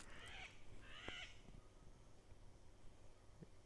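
A bird calls twice in quick succession, harsh crow-like caws, fairly faint against a steady background hiss, then quiet.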